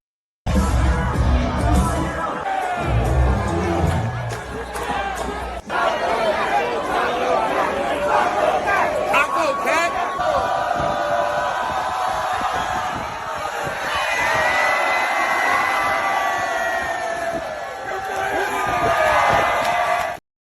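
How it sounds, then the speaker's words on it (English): A wrestling crowd on a cruise ship cheers and chatters steadily, with whoops and shouts from the audience rising and falling throughout, loud and continuous, mixed with voices. "the crowd is into this for some reason"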